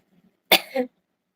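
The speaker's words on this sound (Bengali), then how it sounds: "আমার প্রচন্ড কাশি হচ্ছে" A single sharp, close cough in two quick bursts breaks an otherwise silent moment, from a person with a severe cough.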